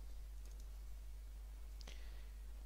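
A single faint computer mouse click is heard during a right-click on a Windows 10 task entry, against a quiet room hum.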